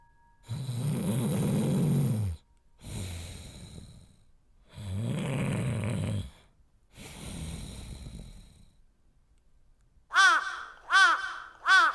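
Crows cawing close by, a run of harsh repeated caws near the end after long snoring-like breathing sounds, loud and alone.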